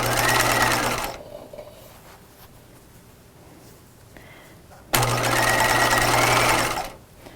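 A sewing machine stitches bias binding around a pajama neckline, right sides together, in two steady whirring runs of about a second and two seconds, separated by a quiet pause.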